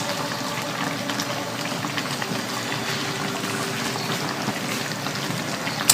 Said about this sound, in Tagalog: takpan natin guys, simmer natin ng 5 minutes na lang